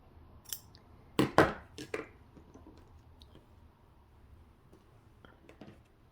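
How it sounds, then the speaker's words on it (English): Scissors trimming ribbon on a Q-snap embroidery frame: a few close, crisp snips clustered together, followed by faint clicks and handling noise in a quiet room. "I'm going to be trimming the ribbon to where it's not in my way"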